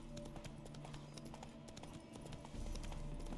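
Roach, the horse in The Witcher 3: Hearts of Stone, stamping and clip-clopping restlessly as it spooks, hooves beating a steady rhythm close by over a low constant hum.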